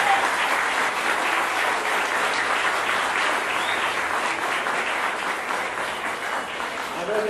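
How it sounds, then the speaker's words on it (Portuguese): An audience at a 2015 school ceremony in Valinhos, Brazil gives sustained, dense applause throughout, steady and fairly loud, with faint crowd murmur blended underneath. "Pedimos uma nova salva de palmas pela apresentação e envolvimento de todas as"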